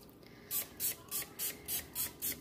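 Spray bottle misting a freshly poured charcoal soap, seven quick even hissing spritzes in steady rhythm, close and fairly quiet.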